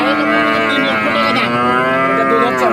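A single loud, long moo from a large dairy cow in milk, deep and sustained, very close.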